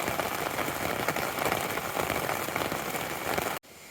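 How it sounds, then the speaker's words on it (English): Steady rain pattering close on a tent during a camping and hiking trip in Maine, dense and continuous for several seconds before cutting off abruptly. "it's raining a little bit harder"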